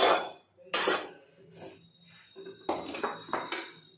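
Dishes and pots washed by hand in a home kitchen: a few loud clattering bursts of utensils and pans knocking together, with quieter scraping and rubbing between them, up close.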